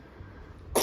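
A child with a cold gives one short cough at the very end, following a quiet stretch of low room noise.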